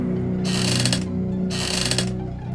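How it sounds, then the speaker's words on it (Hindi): A rocking chair in a living room creaks by itself at night, two long bright creaking strokes roughly a second apart over a steady low hum, fairly close and alone with no voices. "सिर्फ एक आवाज़ आ रही थी उसी रॉकिंग चेयर की"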